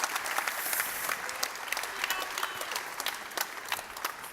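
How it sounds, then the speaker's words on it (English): Audience applause for guest Steve Wozniak, Apple co-founder, at a fireside chat on technology: dense, steady clapping from a crowd filling the whole stretch with sharp individual claps standing out. "give a warm round of applause to our next guest, Steve Wozniak, the co-founder of Apple"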